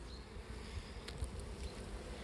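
Honey bees buzz steadily around hives, a dense continuous hum close by with a few louder passes of individual bees, no voices.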